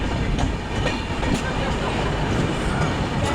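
A train rolls past on a railway line toward Bilaspur in India, a steady loud rumble of wheels and carriages with faint clickety-clack running throughout, no voices over it.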